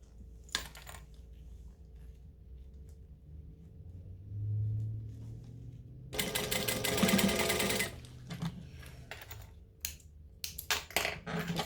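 A sewing machine top stitches in two bursts: a sustained run of rapid, loud mechanical stitching, then shorter choppy runs mixed with quiet handling clatter.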